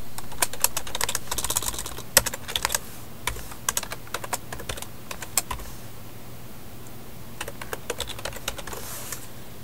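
Rapid clicking keystrokes as a command is typed on a computer keyboard, close and crisp, in irregular bursts with brief pauses and a quiet room hum beneath.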